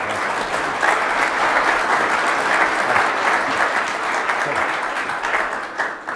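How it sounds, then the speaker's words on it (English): Conference audience applause welcoming a guest onstage, loud sustained clapping from a large room that holds steady and begins to taper at the very end. "I'd like a warm round of applause to our friend Peter Marks"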